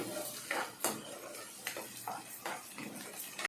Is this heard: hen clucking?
no